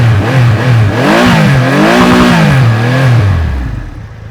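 Triumph Rocket 3 Storm GT motorcycle engine revving loudly up close, its deep note swooping up and down through several rises before dropping and fading away.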